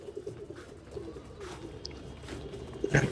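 Pigeons coo softly in a loft, low and continuous, with a brief louder call near the end.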